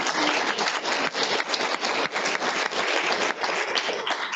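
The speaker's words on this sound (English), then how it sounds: "give her another round of applause" An audience at an education access and inclusion think tank applauds a speaker, giving steady, dense clapping that holds at an even level for several seconds with small dips, with no voices over it.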